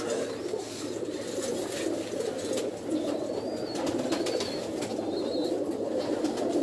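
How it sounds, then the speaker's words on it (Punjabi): Sialkoti pigeons on a rooftop coo in soft, repeated throaty murmurs, with several birds overlapping and occasional wing flutters, near and moderately quiet over a steady background hum. "ਸਿਆਲਕੋਟੀ ਕਬੂਤਰ ਬਹੁਤ ਹੈ ਜੀ ਇਨਕੇ ਪਾਸ"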